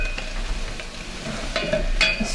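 Salmon fries in a pan with a steady, close sizzle and faint stirring scrapes, continuous and even throughout, with no voices.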